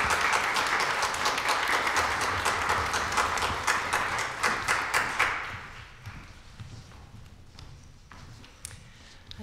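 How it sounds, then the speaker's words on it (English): At an Easter Sunday worship service, the congregation applauds newly commissioned council members: broad, steady clapping from many people that breaks into a few distinct rhythmic claps, then fades to soft room noise and shuffling. "Let's welcome them with a round of applause."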